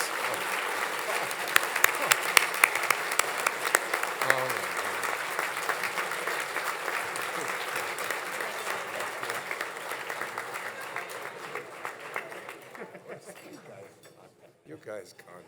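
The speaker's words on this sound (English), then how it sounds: "in giving Stu the round of applause that he richly deserves" A luncheon audience of alumni claps in a sustained round of applause, loud and even for most of its length, then tapers off, with faint clinks of dishes and some voices underneath.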